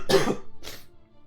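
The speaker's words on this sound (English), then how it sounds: "Pardon my cough." Two short throaty coughs from a single person, close and fairly quiet, the first stronger and the second softer, with near silence between and after.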